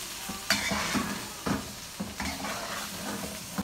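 Potatoes and chicken being stirred together in a cooking pot for biryani filling, with a series of scraping, clattering spoon strokes roughly every half second over a soft steady sizzle, close and alone.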